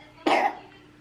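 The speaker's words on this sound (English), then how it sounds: "I know, that yucky cough" A one-year-old boy with a cold gives a single short, close cough that trails off quickly.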